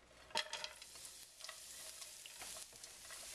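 Carrots fry quietly in a couple teaspoons of oil for Korean jap chae, giving a soft steady sizzle with occasional stirring scrapes and a light clink of the utensil near the start, with no voices.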